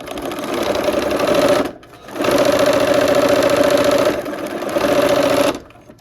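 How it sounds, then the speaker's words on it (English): A sewing machine stitches quilt pieces together for a Christmas block, running in three loud, steady whirring bursts with brief pauses between them. "here we are at the machine. Let's go ahead and sew those pieces together"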